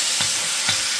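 Shashlik meat fries in a hot pan with a steady, close sizzle, broken by a few soft scraping stirs.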